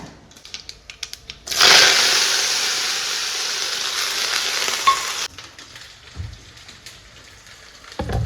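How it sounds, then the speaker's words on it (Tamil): Shallots, garlic and curry leaves frying in hot oil for an egg omelette curry, a loud hissing sizzle that bursts in suddenly and gradually eases over a few seconds, then cuts off, leaving faint kitchen clatter. "நல்லா வந்து வெங்காயம் வதங்கிடுச்சு"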